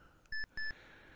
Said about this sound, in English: hence the buzzer